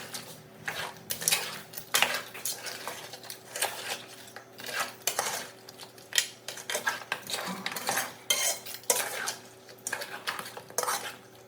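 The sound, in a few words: stirring crab into masala in a pan, Kerala crab roast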